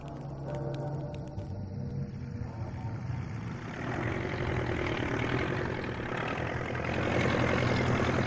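A tractor engine drones in a heavy, steady low idle close by, growing a little louder and rougher toward the end.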